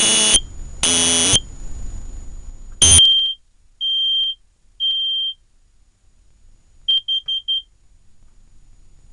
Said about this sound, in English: every once in a while you got to check your smoke detector.